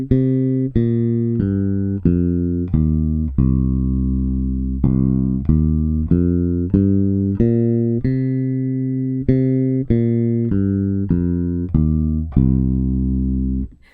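A bass guitar plays a descending pentatonic scale one note at a time, about fourteen clean plucked notes in an even rhythm, with no voices.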